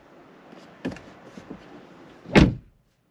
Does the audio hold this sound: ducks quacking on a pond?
no